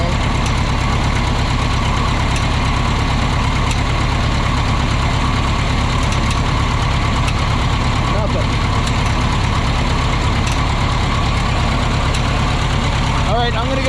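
A Minneapolis Moline Big Mo 500 tractor, first start in over ten years and low on hydraulic fluid, runs with a steady loud low engine rumble and vibration throughout, with a brief clatter near the end.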